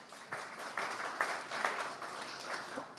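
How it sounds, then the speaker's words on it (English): Scattered applause from a small audience at a talk on housing and zoning changes, moderately loud with uneven bursts of clapping over about three seconds, no voices. "another round of applause for the Novak team for putting this on"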